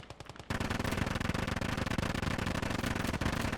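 Sustained rapid machine gun fire in a WW2 real-time strategy battle, a dense unbroken stream of loud rattling bursts starting abruptly after a brief quieter moment.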